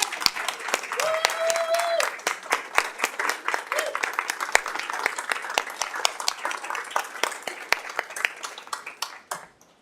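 At a school board public meeting, the audience gives a standing ovation for Father Paul Kavanaugh: sustained, thick applause from a roomful of people for about ten seconds, with a brief tone and faint voices beneath it, fading at the end.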